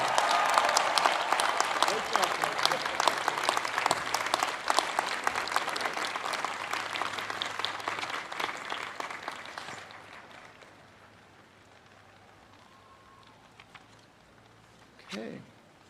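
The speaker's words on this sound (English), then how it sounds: "Let's give Coach Harbaugh another big round of applause for those inspiring words." A large university commencement audience applauds a football coach's speech in a long loud burst of clapping and crowd noise that gradually dies away, leaving near quiet before a voice begins speaking.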